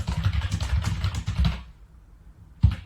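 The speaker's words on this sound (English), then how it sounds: "You can then start typing a message in here." Typing on a computer keyboard, a rapid run of close, clicky keystrokes that stops after about a second and a half, leaving quiet before one last tap near the end.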